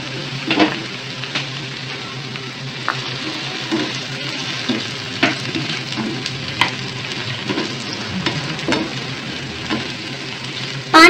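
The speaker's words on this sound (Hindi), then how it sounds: "पाँच से 7 मिनट तक हम भिंडियों को फ्राई करेंगे।" Okra frying in hot oil in a pan crackles with a continuous close sizzle, broken by irregular pops and stirring clatters, with a louder knock at the very end.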